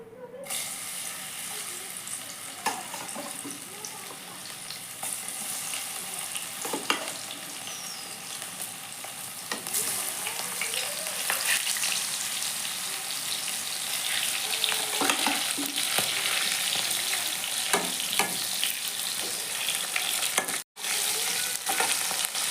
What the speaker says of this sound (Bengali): তেলটা গরম হয়ে গেছে কিছুটা ভেন্ডি দিয়ে ভাজা